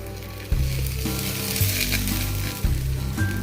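Carrot oats dosa sizzling in oil on a pan: a loud, dense frying hiss runs throughout, with low humming tones starting and stopping beneath it, close and with no speech.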